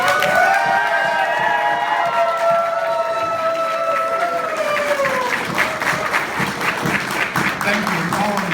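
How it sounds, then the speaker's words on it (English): A crowd at a furry convention closing ceremony applauds and cheers for the organiser. The clapping is dense and sustained, voices cheer over it, and someone speaks loudly at the start. "let's give him a round of"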